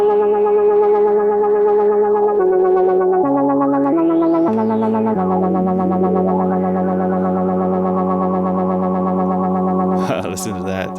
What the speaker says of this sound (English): Have a filter on the delay as well, which is only affecting the repetitions. Resonance up there too.